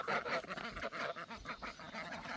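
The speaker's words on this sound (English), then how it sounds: "Dabbles, bring your ducks out, buddy. Cool off in the pond" Ducks quacking by a backyard pond on a farm, a dense run of overlapping nasal calls close by, mixed with some goose-like honks, with no talk over them.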